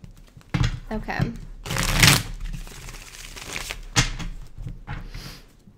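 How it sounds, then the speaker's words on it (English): Tarot cards are shuffled in several papery bursts of riffling and sliding, close and fairly loud, with a voice present at times. "One more shuffle for Leo."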